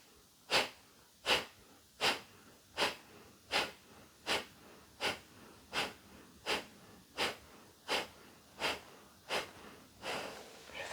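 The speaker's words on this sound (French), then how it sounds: "Kapalabhati, c'est expire, active, par le nez et le ventre qui rentrent." Kapalabhati yoga breathing: about fourteen sharp, forceful nasal exhales in a steady, even rhythm, each a short puffing burst close to the microphone, with no talking.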